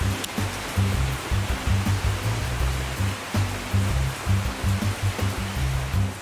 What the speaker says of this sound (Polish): Na szczęście na Hawajach takie ulewne deszcze bardzo szybko mijają